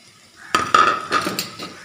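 Chopped carrot and tomato hitting hot oil in a pan for vegetable soup noodles, a short burst of sizzle with a few spatula clinks and scrapes against the pan.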